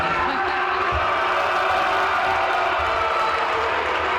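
At a boxing press conference, a crowd cheers, hoots and hollers in a continuous dense roar of voices and clapping that stays steady from start to finish.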